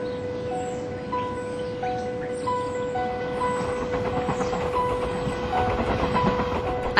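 A train in Taiwan rumbles steadily along from Taipei with a constant hum and faint rhythmic clatter, a few short high tones beeping over the noise.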